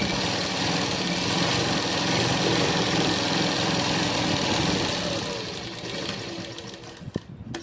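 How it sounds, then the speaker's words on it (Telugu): Sewing machine stitching a Punjabi dress, sewn from the inside of the fabric, running in a steady, fast, continuous whir that eases and slows near the end, then stops with a brief click. "దీన్ని ఇప్పుడు ఖర్చుని ఒక సైడ్ ఇలా తిప్పేసేసుకొని లోపల సైడ్ నుంచి కుట్టు వేసుకోవాలి"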